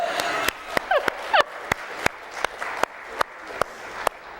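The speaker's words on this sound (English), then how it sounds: "You should clap for that." Congregation clapping during a church sermon, a few distinct hand claps ringing out at irregular intervals against a soft background murmur, with faint brief chirping sounds early on.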